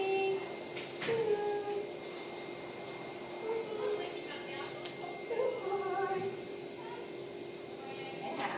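A small dog yaps and whimpers intermittently in high, thin bursts, somewhat distant, with soft voices and room noise around it.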